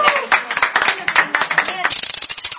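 People applaud a freshly made tiramisu in a home kitchen, a burst of close, lively clapping from a small group mixed with excited voices talking over it.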